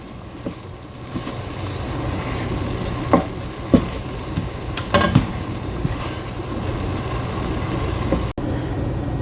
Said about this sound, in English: I've added 1 pound of hamburger to a Dutch oven, and I want to cook it until it's done.